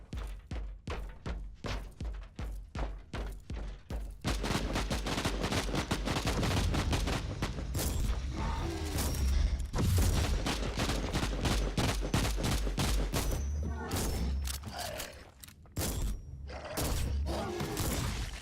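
Shotgun blasts from the Warhammer 40K: Inquisitor - Martyr video game, a loud rapid string of booming shots, evenly spaced at first and then merging into dense, chaotic gunfire with crashing impacts.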